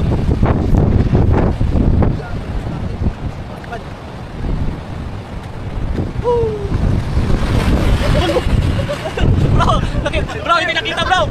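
Strong wind gusting by the water, roaring steadily against the microphone, with people talking loudly over it throughout.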